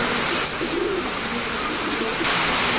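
Low pigeon cooing murmurs in short bursts beneath a loud, steady rushing noise that nearly covers it.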